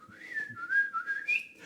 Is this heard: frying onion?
no